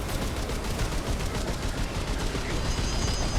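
Dense, continuous gunfire in a Remnant 2 boss fight, a rapid stream of shots that rattles steadily throughout at moderate volume.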